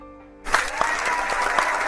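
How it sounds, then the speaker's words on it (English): Audience clapping at a business seminar, starting abruptly after a short quiet lead-in and continuing as steady, dense applause with a few sharper claps standing out. "Come on, let me hear you clap."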